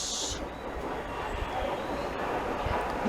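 A train pulls into Grove Park station as a Charing Cross service, a broad steady rumble of wheels and carriages that holds throughout at moderate distance, with a brief high whine at the very start.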